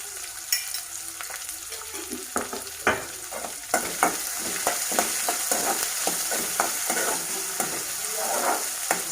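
Vermicelli for upma fries in a pan until brown, a continuous close sizzle that grows denser as frequent spatula scrapes and taps repeat through the clip, with nobody speaking.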